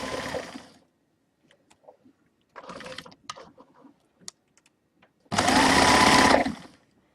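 A sewing machine stitches a buttonhole in reverse, running in a short burst, then working again in a longer steady whir after a few faint clicks and handling noises.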